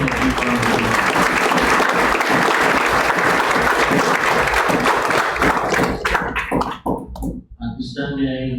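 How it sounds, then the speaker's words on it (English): A large audience claps in a sustained, loud burst of applause for a high school debate team at a national law competition, dense and continuous before thinning out and fading near the end. "let's give them a big round of applause"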